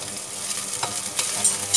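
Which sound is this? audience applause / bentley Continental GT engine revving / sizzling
sizzling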